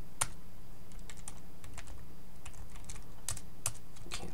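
Keys clack on a computer keyboard while code is typed, a steady run of close, crisp taps with brief pauses, heard alone over a faint background hum.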